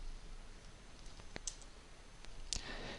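Two sharp mouse clicks on a computer, one near the middle and another crisper one toward the end, faint and close over a quiet background hiss.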